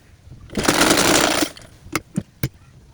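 A sewing machine runs in one steady burst of about a second while stitching fabric for a baby frock, then stops, followed by a few sharp clicks and taps.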